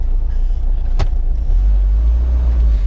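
A 1979 Volvo 242 with a four-speed overdrive manual gearbox sets off for a drive, its engine a loud, steady low rumble inside the cabin, with a single sharp click partway through and no voices.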